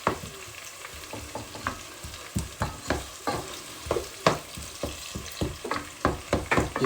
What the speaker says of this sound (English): Let me just stir that while she's doing that.